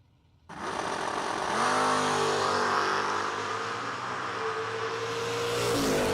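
A drag racing car makes a solo bye run, its engine roaring loud and close from a sudden start, the pitch climbing and holding at a steady high-powered growl for several seconds.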